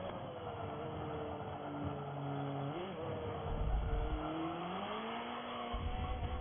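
Car tires squeal continuously under hard cornering in a racing video game, a sustained wavering tonal screech over steady engine drone that rises and bends in pitch, with a low engine surge partway through.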